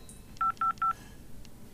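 Touch-tone keypad beeps while adding a third person to a conference call, three quick evenly spaced tones in a row followed by a fainter blip, close and distinct against a quiet background.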